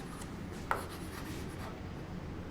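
Numbers being written for a divisibility lesson, faint scratchy pen or chalk strokes in short close bursts with one sharp tap, quiet throughout.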